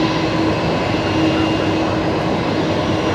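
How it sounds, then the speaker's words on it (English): A BAe 146 in TNT livery taxies at Brisbane Airport, its engines a steady, moderate whine and rumble that holds evenly throughout. "another 146 on the move as well"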